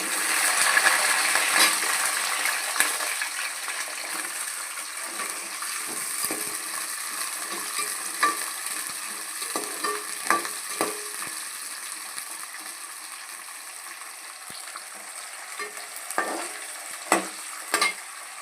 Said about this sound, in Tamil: அடுத்து வெங்காயம் போட்டுக்கலாம் பாருங்கள்